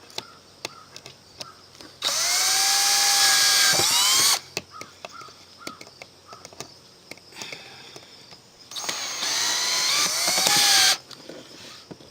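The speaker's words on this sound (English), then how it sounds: "I suppose we could use our drill." A power drill drives screws into wooden end pieces, whirring loudly in two sustained bursts, its pitch rising and falling with the load, separated by quieter clicking and handling noise.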